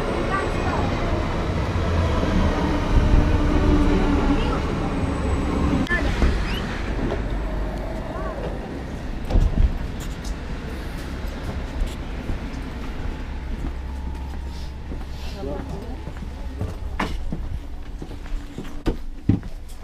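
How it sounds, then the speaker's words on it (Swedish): A Stockholm commuter train (pendeltåg) rumbles loudly at a station, with heavy low rumble and rattling that eases after a few seconds into a steadier hum, punctuated by clunks and footsteps, with people talking. "Pendeltåget. Det är ett stort tåg."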